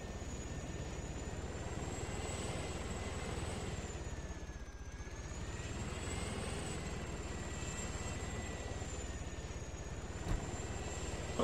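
A helicopter auto-rotating in Arma 3, a steady whirring rotor and engine drone held at a constant level with a slight dip midway.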